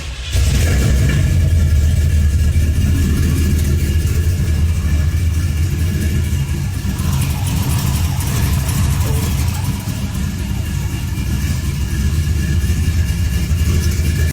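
A 1980 Chevrolet Camaro Z28, a late second-generation muscle car with upgrades, runs steadily with a loud, continuous low engine rumble that holds throughout with little change in pace.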